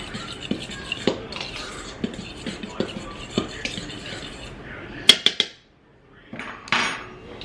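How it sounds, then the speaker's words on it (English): A spoon stirring a teaspoon of salt into a dish for an Easter dinner, scraping and clinking against the bowl in a loose rhythm, then a few sharp taps before a brief silence and soft handling noises. "A teaspoon of salt. And I am just going to stir this up."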